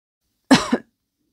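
A single short throat clearing, close and fairly loud, two quick guttural bursts, then silence.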